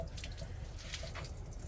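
Coolant water dripping and trickling from an LT1 engine as its front cover is pulled off, a steady wet spatter with a low rumble beneath, close and fairly quiet.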